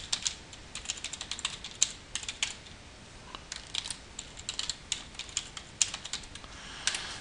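Typing on a computer keyboard while entering account details for a website hosting setup, with quick, uneven bursts of close, crisp key clicks and short pauses, no voices.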